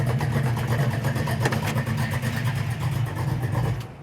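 A 1969 Chevelle with a blueprinted engine and dual exhaust revs steadily, a loud, continuous rumble held close for about four seconds with no talk.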